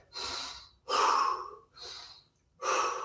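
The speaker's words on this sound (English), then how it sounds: "Catch your breath. Front loaded squats. Couple deep breaths." Heavy, deep breathing after front-loaded dumbbell squats on leg day, four loud drawn-out breaths alternating in and out at close range, with no talk.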